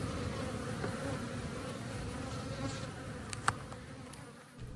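Disturbed honey bees swarm at the landing board of a hive, a steady faint buzzing hum with individual bees zipping past close by.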